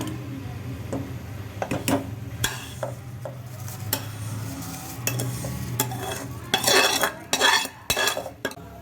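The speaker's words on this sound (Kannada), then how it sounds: "ಶಾವಿಗೆ ಹಾಕಿದ್ಮೇಲೆ ಚೆನ್ನಾಗಿ ಮಿಕ್ಸ್ ಮಾಡಿಕೊಂಡು ಒಂದು ಐದು ನಿಮಿಷ ಕುದಿಯ ಕುದಿಸಿ" A metal spoon stirs vermicelli through boiling milk and sugar for shavige payasam, giving repeated close clinks and scrapes against the pot over a soft bubbling simmer, with no talking.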